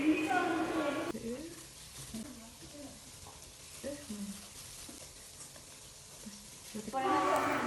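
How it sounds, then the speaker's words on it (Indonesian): Donuts fry in oil over medium heat, a soft continuous sizzle under a person talking for most of the stretch, with the frying louder at the start and end. "langkah selanjutnya adalah menggoreng donat dengan api sedang"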